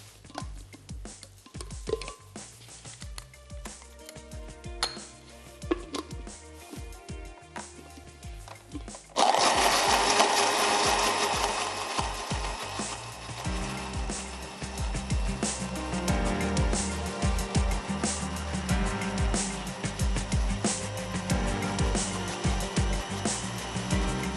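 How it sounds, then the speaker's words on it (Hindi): A blender whirs loudly as it starts partway through, blending soup stock for a Tom Yum soup, preceded by quieter kitchen clatter and then running steadily to the end. "यखनी को भी ब्लेंड कर लेते हैं।"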